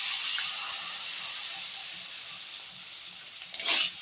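Tomato paste sizzles in a hot pan for chilli baby corn, a steady close-up crackling hiss that swells into a brief louder burst of spattering, as if stirred, near the end.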